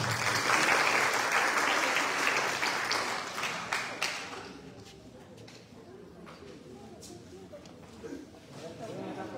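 Students and guests applaud at a university academic-year opening ceremony in Chilca, a loud burst of clapping that fades after a few seconds into quieter crowd murmur and scattered claps.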